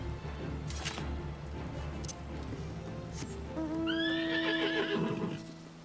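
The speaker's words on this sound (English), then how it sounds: "that's the horse that I got for Endwalkies" A horse mount in Final Fantasy XIV whinnies loudly with a rising, fading neigh near the end, after a stretch of faint clip-clopping hooves over steady game music and ambience.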